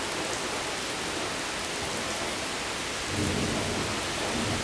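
Intense rain pours during a severe thunderstorm, a dense, steady hiss of drops on surfaces, with a deep rumble of thunder swelling louder in the final second and a half.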